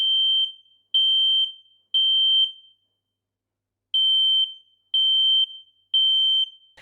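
An X-Sense SC07 combination smoke and carbon monoxide detector sounds its test alarm: piercing, loud high beeps in two groups of three, with a short pause between the groups.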